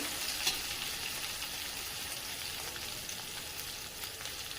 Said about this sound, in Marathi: कढीपत्ता, सर्व साहित्य व्यवस्थित असं परतून घ्यायचंय